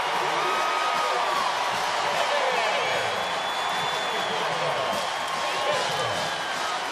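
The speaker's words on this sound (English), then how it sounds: "Listen to this crowd." A football stadium crowd at a Pitt Panthers versus Louisville Cardinals game sends up a broad, sustained roar of cheering and whooping that stays loud and steady for the whole stretch, with no single voice standing out.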